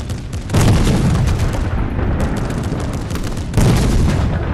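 Heavy gunfire and explosive booms in the online shooter Battlefield 2042, loud and close, with a dense barrage of shots and blasts rolling continuously and a fresh burst hitting near the end.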